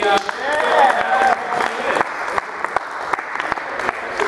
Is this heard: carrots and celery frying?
no